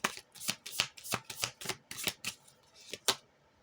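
Tarot cards shuffled by hand in a steady run of about a dozen crisp riffling bursts, close and fairly loud, with no voice over them.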